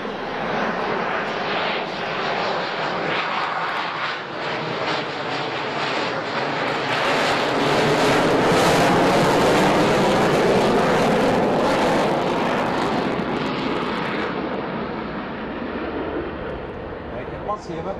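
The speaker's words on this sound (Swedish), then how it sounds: "Bygga ett flygplan som kan flyga dubbelt så fort som ljudet, det är inte svårt." A Saab fighter jet roars overhead, a loud sustained broadband rumble that swells to a peak midway and slowly fades, with some wind buffeting on the microphone.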